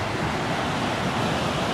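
Ocean waves at a northern beach wash into a small rock pool, making a steady, loud rush of surf and churning water mixed with wind noise.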